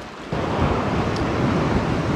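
Ocean waves break on a rocky UK shoreline with the tide pushing in, a loud, broad, churning wash that swells in suddenly after a brief lull and then roars on steadily, with wind buffeting the microphone.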